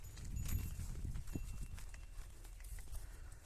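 A pair of Khillari bullocks walking on a farm, their hooves clopping in a loose, uneven rhythm of close, dull knocks over a low rumbling background.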